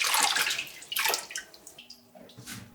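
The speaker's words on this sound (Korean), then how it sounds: "물을 갈아가며 3번 정도 씻어주고" Water dropwort (minari) being washed by hand in a basin of water, with close splashing and swishing bursts followed by softer drips and trickles.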